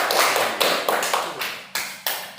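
A class of fifth-grade students claps together for a classmate in a loud, uneven burst of hands with several sharp accents, fairly close.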